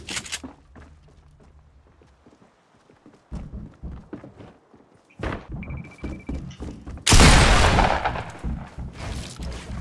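Double pistol gunfire in the video game Fortnite, a few sharp shots among thuds and footsteps, followed by a louder burst of noisy impacts near the end.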